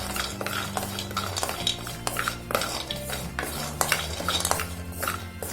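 Ingredients being dry-roasted and stirred in a metal pan, a busy run of scraping and clinking spoon strokes against the pan over a faint sizzle, close and steady with frequent sharp knocks.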